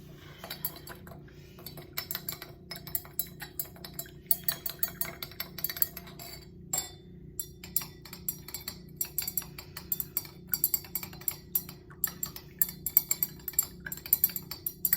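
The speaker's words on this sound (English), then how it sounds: "So I'm going to grab a different stirring rod and stir that up a bit." A glass stirring rod clinks rapidly and continuously against a glass vessel while stirring large-crystal sugar into water, a fast irregular tinkling that runs throughout over a low steady hum, close and moderately loud.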